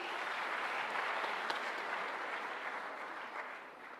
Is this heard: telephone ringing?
no